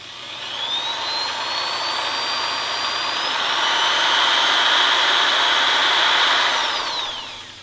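A drill, fan and lamp running together off a Bluetti AC200P portable power station; the drill's motor whines up in pitch, holds a loud steady high hum for several seconds, then winds down.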